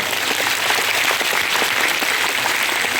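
Dense, loud applause from a crowd at a Hindu religious storytelling event about Lord Ram, steady clapping throughout with no speech.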